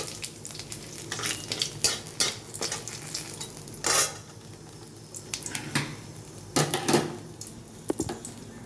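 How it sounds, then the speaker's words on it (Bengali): Bay leaves and five-spice seeds crackle and sizzle in hot mustard oil in a kadai, with intermittent bursts of spattering, a clink of a utensil, and a low continuous fry underneath, close and fairly loud, no talking. "কড়াইতে সর্ষের তেলটা গরম হয়ে গেছে, এখানে আমি তেজপাতা দিয়ে দিচ্ছি, দিয়ে যাচ্ছি 5 ফোড়ন"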